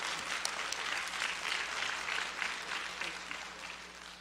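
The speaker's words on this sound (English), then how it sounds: "Once again, please give him a round of applause." An audience at a Krio descendants reunion gathering in Dallas, Texas, gives a sustained round of applause, many hands clapping together at moderate distance, steady throughout and then tapering slightly.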